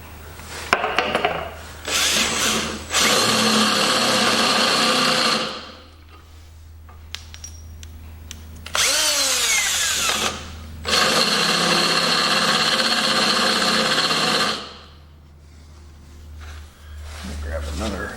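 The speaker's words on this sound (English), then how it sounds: "So here's an overly" Cordless drill fitted with an oversized bit boring into material while working on a 1972 Homelite T10 garden tractor, in several loud bursts of whirring and grinding separated by pauses, with someone talking in the gaps.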